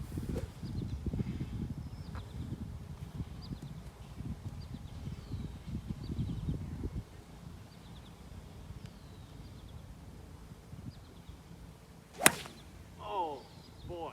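A 3 hybrid golf club strikes a 3D printed golf ball outdoors on a fairway, giving one sharp, hard crack later in the clip after low rustling and wind noise, followed by a fainter whoosh.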